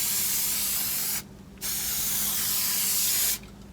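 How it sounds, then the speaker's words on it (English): Two long, loud bursts of high-temperature spray glue hissing from an aerosol close by, separated by a brief pause, with a shorter gap before the second burst ends. "High temperature spray glue."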